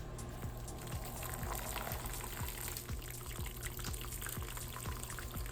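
Mash liquid for a caramel millet lager recirculates through the grain bed, a steady close gurgle and trickle of flowing, bubbling liquid that runs without a break and with no talk.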